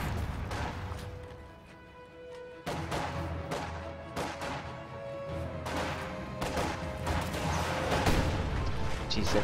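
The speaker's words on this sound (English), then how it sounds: "Correct your rocket fire!" Rocket artillery pounds away in a World War II strategy game, with repeated heavy booms and crashing impacts layered over battle noise, loud and dense throughout, while voices speak over the combat.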